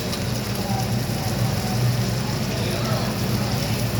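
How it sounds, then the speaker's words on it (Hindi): Cleaned prawns hit a hot pan in a hotel kitchen, sending up a loud, dense, continuous sizzle that stays close and even throughout, with a voice partly beneath it. "झींगे डाल दिए।"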